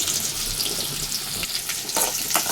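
Chopped medium onions and curry leaves fry in a pan for egg curry, giving a loud, continuous crackling sizzle with a few scraping stirs near the end.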